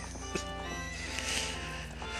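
Epona, Link's horse in the Japanese version of Zelda: Ocarina of Time, neighs with a bright whinny over clip-clopping hooves and game ambience, fairly close and clear.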